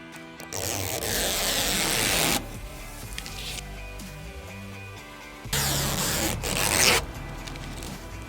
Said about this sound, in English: we can peel the adhesive off the back of these